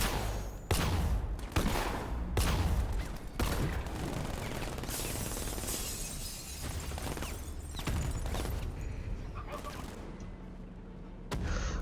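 Gunfire and heavy blasts in the Batman Arkham Knight video game, loud repeated bursts and booms in irregular clusters with mechanical clatter between volleys.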